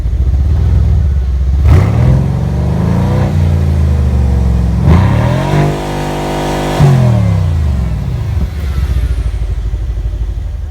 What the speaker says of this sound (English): I'm going to give you a bit of an exhaust review here.